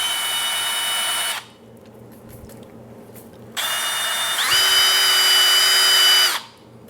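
A power tool polishes a scratched All-Clad copper-core stainless steel pan with 800 grit. Its motor whines in two close bursts: a short run, a pause, then a longer run that rises in pitch before stopping.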